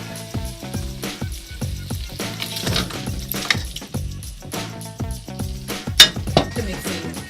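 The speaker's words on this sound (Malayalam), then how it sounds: "അതിലേക്ക് നമ്മൾ ഈ ചിക്കൻ ഇട്ട് റെഡിയാക്കി എടുക്കും" Fried chicken is stirred into cooked masala for chicken dum biryani, a steady rhythm of spoon scrapes and clinks against the pot over a soft sizzle, with one sharper knock near the end.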